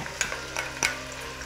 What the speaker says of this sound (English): I'm going to leave the onions to fry for about a minute